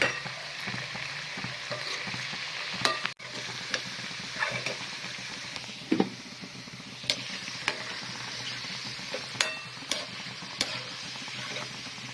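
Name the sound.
kothimbir vadi frying in oil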